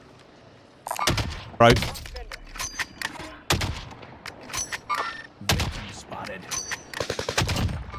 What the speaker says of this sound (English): He's getting shot by someone.